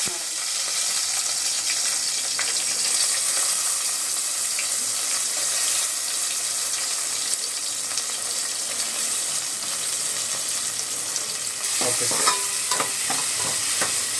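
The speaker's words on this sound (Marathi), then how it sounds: "तेल आता तापलेलं आहे आपण ह्याच्यामध्ये ह्याच्यामध्ये आता कडीपत्ता टाकणार आहोत" Curry leaves crackle and sizzle in hot oil for a Malvani crab curry, a steady loud frying hiss throughout with sharper spatters and a few stirring clatters near the end.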